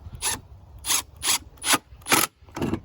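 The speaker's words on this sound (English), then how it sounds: "And then I will run screws that were already in this thing just to repurpose those." Reused screws driven with a power driver into a wooden planter box, several short whirring bursts in a steady rhythm, close and moderately loud with brief pauses between.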